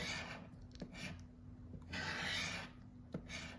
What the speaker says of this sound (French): C'est des gros tickets, ça, il y a beaucoup de surface à gratter.